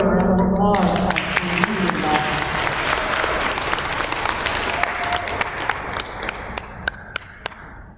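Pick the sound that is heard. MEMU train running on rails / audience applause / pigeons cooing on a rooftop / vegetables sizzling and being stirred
audience applause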